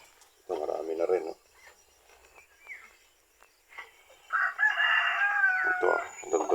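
Rhode Island and Plymouth laying hens in a coop: a short burst of clucking early, then a longer loud crow-like cackling from a nearby fowl, with speech at points in between.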